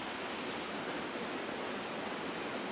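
A waterfall in Cannock Chase woodland, a steady broadband rush of falling water, even and unbroken, filling the whole clip with no voices.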